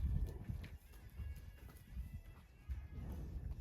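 A mare, a horse, snorts and shifts with low thuds and rustling movement close by, a steady restless bustle with brief louder bursts and no talk.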